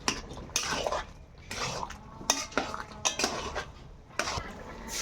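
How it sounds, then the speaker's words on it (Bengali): Spinach curry with cumin and ginger paste stirred in a pan, irregular clinks and scrapes of a utensil against the metal, close and fairly quiet, with no speech. "এটা দিয়ে আমি একটু নেড়ে চেড়ে তারপরে নামিয়ে ফেলবো"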